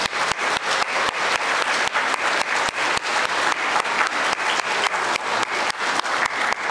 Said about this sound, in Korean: 다 박수 다시 한 번.